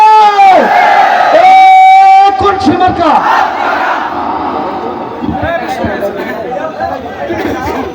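A political rally crowd for Islami Andolan Bangladesh in Morrelganj, Bagerhat, roars the takbir, Allahu Akbar, after a loud amplified leader's call, the massed shout loud and sustained before settling into general crowd noise.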